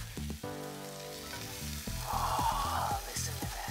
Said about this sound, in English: Put the lamb shanks right in. My goal is to just get a nice sear.